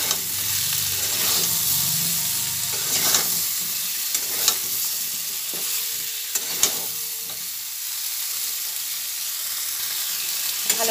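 Potatoes and pointed gourd fry in a pan for a vegetarian curry, a steady close sizzle with the scrape and clatter of a spatula stirring throughout, no voices.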